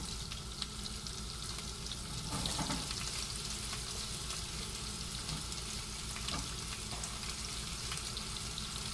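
Sliced onion fries in a hot pan with a continuous, fairly faint sizzle and crackle, broken by a few brief stirring scrapes.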